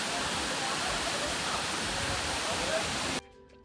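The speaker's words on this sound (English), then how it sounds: "Here is a beautiful video of a nice waterfall." Steady, dense roar of falling water rushes without pause, then cuts off abruptly near the end.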